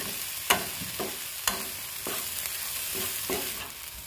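Cluster beans with coconut mixture and salt stirred in a pan, with soft sizzling and a few sharp spoon taps against the pan at irregular intervals, close and without voices.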